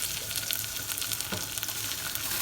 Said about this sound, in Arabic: وهبدا ان انا اشوح البصلايه دي